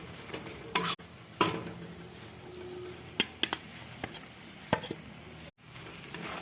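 Yardlong beans are being stir-fried with whole spices, including bay leaf and dried red chilli, for a Bengali curry. A quiet sizzle sits under repeated sharp spatula clinks and scrapes against the pan, with no talk.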